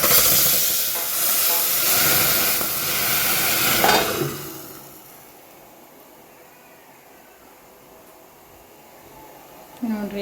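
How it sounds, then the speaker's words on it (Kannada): Mustard seeds and spices for an Udupi-style tempering hit hot oil over about four seconds in a home kitchen, making a loud, dense hiss and crackle that suddenly drops to a quiet background hush, with a short clatter near the end. "ನೋಡ್ರಿ ಈಗ ಒಗ್ಗರಣೆ ಕೊಟ್ರಮ್ಮ"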